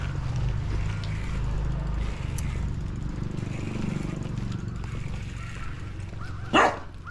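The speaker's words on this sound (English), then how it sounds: "You have a nice doggy." A dog at a house in Thailand, heard over a steady low rumble of traffic and background noise, with one sharp, loud bark near the end of the stretch.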